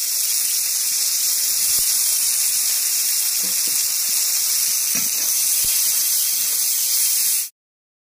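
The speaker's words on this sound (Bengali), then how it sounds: "ভেজে রাখা আলুর তেলে তেজপাতা দুটো দিয়ে দিলাম, শুকনো জিরে দিয়ে দিলাম, সাদা জিরে। এবার কোচানো পেঁয়াজ দিয়ে দিলাম।" Sliced onions sizzle in hot oil with bay leaves and white cumin, left over from frying potatoes, making a steady, loud, close hiss with a few faint clinks, which stops abruptly near the end.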